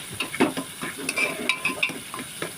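Onion sautéing in oil in a pan while a bottle gourd and chana dal curry is cooked, with steady sizzling and repeated scraping stir strokes, close and fairly quiet.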